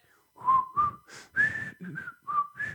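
A person whistles a short tune nearby, several clear rising and falling notes in a bouncy rhythm with brief pauses, heard alone and fairly loud.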